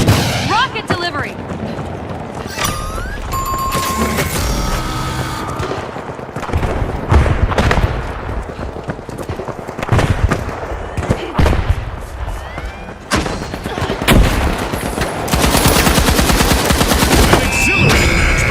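Rocket explosions and rapid gunfire fill a match in the video game The Finals, dense and loud throughout with heavy booms and bursts, and an announcer's voice mixed in.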